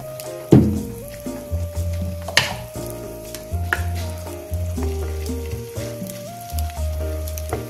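Noodle kabab mixture sizzles and fries in a pan, and spoonfuls are dropped in one after another. A clink and scrape of utensils sound over the steady sizzle.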